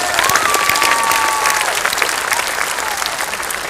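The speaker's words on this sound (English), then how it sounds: "A huge round of applause for our senior class officers." An audience at a high school commencement applauds the senior class officers, a dense, steady round of clapping that fills the hall at fairly close range with a faint whistle-like tone gliding through the crowd noise.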